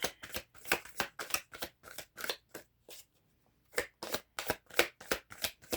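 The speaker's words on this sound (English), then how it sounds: "give me a clarifying card on duality" Tarot cards being shuffled by hand, a close, quiet run of rapid riffling bursts with a brief pause midway, no talking.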